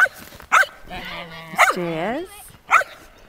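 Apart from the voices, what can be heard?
dogs barking on an icy day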